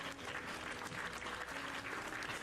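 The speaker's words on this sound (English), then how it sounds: "I'm giving you all a round of applause." A round of applause during a Minecraft survival livestream, dense continuous clapping at a steady level for the full stretch, with no talking over it.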